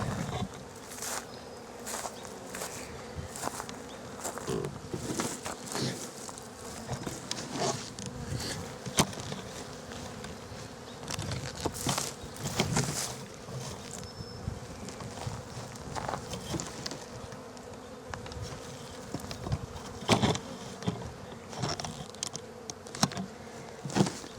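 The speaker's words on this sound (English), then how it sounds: "Had more bees in it." Bees in a nuc hive box drone in a dense, continuous buzz, close and steady, with scattered soft taps and rustles over the hum and no talking.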